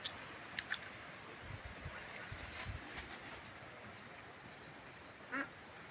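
Ducks quacking as they gather fallen mulberries under a ripening mulberry tree, a few short distant quacks scattered over steady wind and outdoor background noise, with one louder burst near the end.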